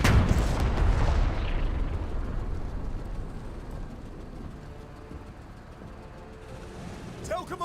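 Tank cannon firing in a video game: one heavy, booming blast at the start that rolls off into a long rumbling decay, with sharp clicks near the end.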